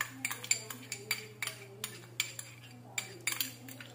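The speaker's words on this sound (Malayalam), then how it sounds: "നമുക്ക് നല്ല രീതിയിൽ ഒന്ന് ഇളക്കി കൊടുക്കണം." A metal spoon stirs yeast and sugar into warm water in a bowl, giving a quick run of close, bright clinks and scrapes against the sides in an uneven rhythm over a low steady hum.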